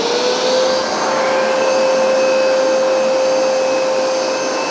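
A Hoover SmartWash Pet carpet washer drones loudly and continuously nearby, a steady vacuum-like whine with a high pitched tone held throughout, no talking.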